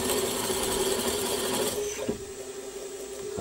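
Milling machine running with a 6.2 mm drill making holes in a tooling plate, a steady loud mechanical whir that drops in intensity partway through as the cut changes.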